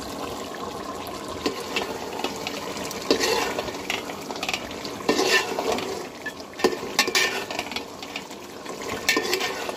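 Chicken curry with large local garlic cloves being fried and stirred in a pot, steady scraping and clinking of a spoon against the pan over a soft sizzle, close and continuous with no talking.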